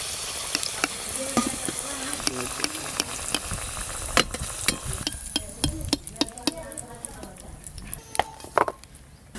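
Potatoes fry in hot oil with a continuous crackling sizzle broken by sharp pops and stirring clatter, heard close up with occasional talk underneath.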